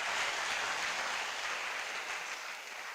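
An audience at a college of engineering public lecture claps continuously in a dense, even roar of applause that holds steady for the full three seconds, slightly softening toward the end.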